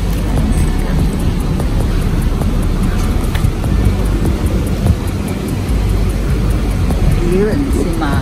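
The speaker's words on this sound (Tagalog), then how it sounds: "Medyo mahangin." Wind buffets the microphone in a steady, low rumbling roar that runs the whole time, with faint background noise underneath.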